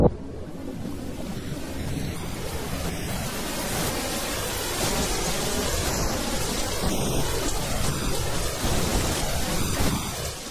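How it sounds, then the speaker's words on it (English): Heavy rain from Cyclone Ida in far north Queensland pours in a dense, continuous roar with deep rumbles of thunder, steady and loud throughout without any voices. "Cyclone Ida has dumped 16 inches of rain across far north Queensland."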